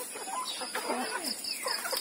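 Chickens cluck softly in a cluttered farmyard with turkeys, ducks and wild boar kept nearby, with scattered bird calls over a steady background hiss.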